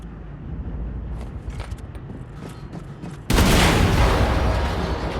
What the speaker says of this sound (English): Explosion in der Hangarbucht.